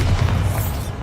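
Bombarda spell explosion in Hogwarts Legacy: a loud, close, heavy boom with dense low rumble and crackling debris filling about a second, no voices present.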